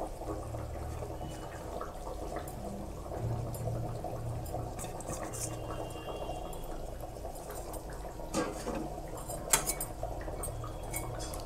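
Fish curry of bhola fish in mustard paste simmering in a pot, a steady low bubbling hiss with occasional faint clinks of utensils, no voices.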